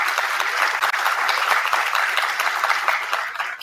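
An audience at a guest talk in an engineering college bursts into steady, dense applause, loud and continuous for the whole stretch with no talking over it.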